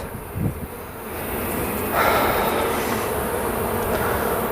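Honeybees at a hive being inspected, a dense, droning buzz that swells and then holds steady and loud close by, with a few soft knocks early on and no talking.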